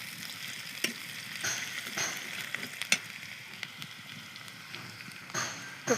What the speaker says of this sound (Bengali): তো একটু পেঁয়াজটা ভেজে নিব, কাঁচা গন্ধটা যাতে চলে যায়।